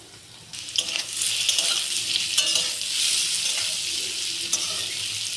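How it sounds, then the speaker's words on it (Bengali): Paneer fries in a pan with a steady sizzle and crackle, and short scraping stirs break through it. "আমার পনির ভাজা হয়ে গেছে, এবার আমি নামিয়ে নিচ্ছি।"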